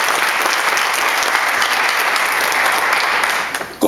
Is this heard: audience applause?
yes